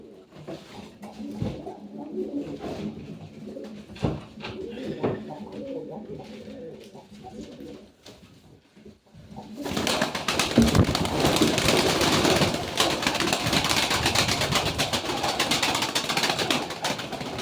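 Pigeons or doves coo repeatedly at close range, soft rhythmic calls mixed with faint wing and handling noises, before a louder steady rush of background noise takes over midway.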